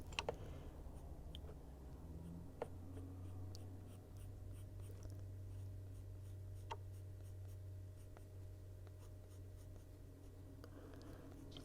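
A dark umber colored pencil scratches steadily across paper in close, faint, continuous strokes with occasional light taps, no talking.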